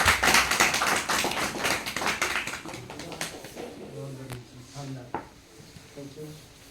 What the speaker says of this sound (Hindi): मैं वेलकम करूँगा सर जी के, प्रमोद सर जी का एक जोरदार ताली के साथ